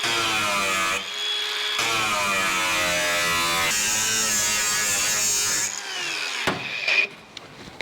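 An angle grinder cuts on a car's sheet-metal back panel, a loud, continuous high whine with a shifting pitch that stops abruptly near the end, followed by a few brief scrapes.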